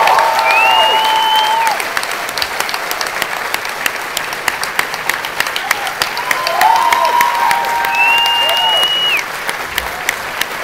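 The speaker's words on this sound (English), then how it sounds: "please give like the biggest round of applause you can" Sustained applause from a crowd, steady clapping throughout with a few bright whistles or cheers rising above it.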